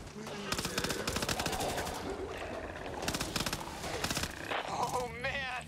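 A mounted gun in a video game fires in long, rapid automatic bursts, loud and close, broken by short pauses, with players talking over the shooting and other game sounds near the end.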